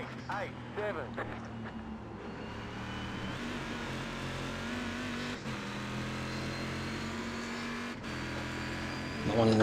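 A race car engine in the iRacing video game drones and revs through a corner where the car understeers, a continuous close-up motor hum with shifting pitch and a few abrupt changes, with someone speaking over it.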